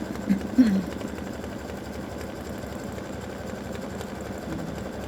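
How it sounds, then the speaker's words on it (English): An embroidery sewing machine stitches an appliqué tic-tac-toe board in gray silver thread, a faint, steady mechanical hum running continuously with a couple of brief soft bumps near the start. "I have my gray silver thread ready to stitch the tic-tac-toe board"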